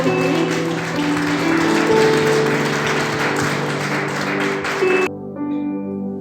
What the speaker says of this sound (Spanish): ¿Por qué no le das un fuerte aplauso a nuestro Dios?